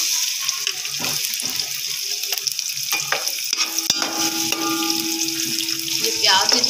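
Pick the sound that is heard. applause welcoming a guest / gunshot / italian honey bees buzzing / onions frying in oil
onions frying in oil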